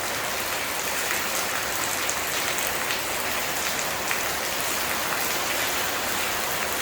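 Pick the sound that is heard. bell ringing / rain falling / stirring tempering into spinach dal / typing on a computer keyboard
rain falling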